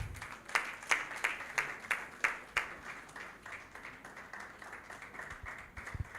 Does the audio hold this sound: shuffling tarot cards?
no